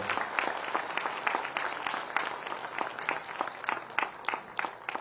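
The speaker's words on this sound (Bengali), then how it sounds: "সবাই আরো একবার তাঁর জন্য জোরে করতালি আশা করব" An audience at a government job offer ceremony applauds with sustained clapping from a hall full of people, moderately loud and even, tapering slightly toward the end.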